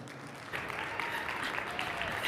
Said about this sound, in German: Jessica Studer, bitte begrüßt sie mit einem herzlichen Applaus auf der Bühne